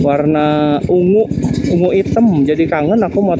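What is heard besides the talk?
No distinct noise like a dog, phone or traffic.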